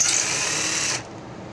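A cordless power tool whirs steadily while backing out the seat bolts on a Honda XL125S motorcycle, a loud, close buzzing that cuts off abruptly partway through and leaves a quiet hiss.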